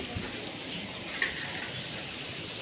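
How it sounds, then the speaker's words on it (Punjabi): Heavy rain with hail pours down in a dense, steady hiss during a storm, with a few sharper taps of hailstones hitting a satellite dish standing out from the constant roar. "ਸਾਡੀ ਡੈਸ ਤੇ ਵੀ ਗੜੇ ਬਹੁਤ ਡੱਗੀ ਜਾਂਦੇ ਆ"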